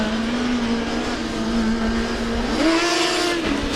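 A Formula Student race car circles the skid pad at a student engineering competition, its engine holding a steady high drone near the microphone that shifts up in pitch partway through, with no talk over it.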